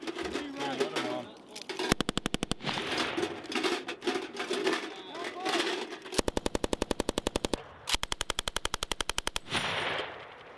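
U.S. Marine Corps machine gun live-fire in South Korea: several loud, rapid bursts of automatic fire at close range, separated by pauses filled with people talking and shouting.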